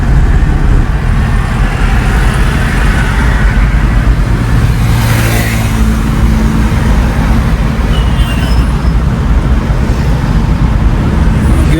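Car driven by a learner with a driving instructor, accelerating after shifting into third gear: a loud, close, steady engine and road roar that continues throughout without talk.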